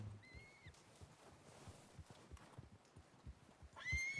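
A horse in a video game clops along in a faint, steady run of hoofbeats, ending with a brief, louder whinny.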